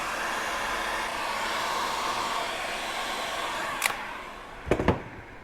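A heat gun blows a steady, loud airflow while shrinking heat shrink tubing over solder joints, with a few sharp clicks or handling taps near the end.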